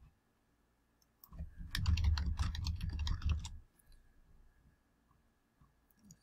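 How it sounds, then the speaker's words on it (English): Rapid typing on a computer keyboard for about two seconds, a dense run of keystrokes close up and alone, followed by a quiet room. "Let's type that in."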